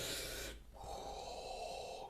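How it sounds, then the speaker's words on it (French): Darth Vader-style breathing sound effect used for stop-motion frogmen divers, a close, hollow mechanical breath with a long hiss, a brief pause, then a lower rasping draw. "la fameuse respiration dont on s'est servi pour Dark Vador"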